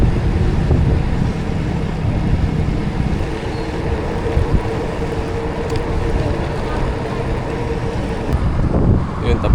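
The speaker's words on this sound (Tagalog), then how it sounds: "Grabe, lakas ng hangin." Strong wind buffets the microphone in a steady, loud, broadband roar throughout, during a long group road ride; low rumbling gusts persist with no clear speech above them.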